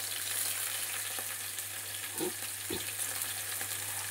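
Chopped garlic frying in oil beside onions in a pan for chili chicken, a faint, even sizzle with a couple of brief stirring scrapes and a low steady hum underneath.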